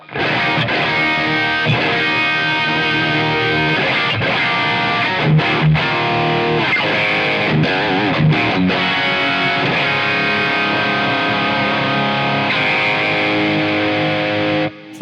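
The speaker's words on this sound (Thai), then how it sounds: "พันกว่าบาทได้เสียงแตกประมาณนี้ก็ไม่รู้จะพูดยังไงแล้วอะ" Loud, heavily distorted electric guitar through a TANK-G V2 effects preset playing sustained chords and riffs continuously, thick and saturated with effects, no voices.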